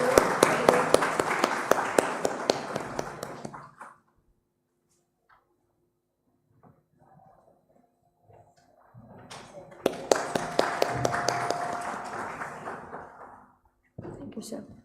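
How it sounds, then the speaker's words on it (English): An audience at an intellectual-property awards ceremony and conclave claps steadily for several seconds, falls quiet while low voices murmur, then breaks into a second round of applause, with a brief final burst. "A round of applause, please."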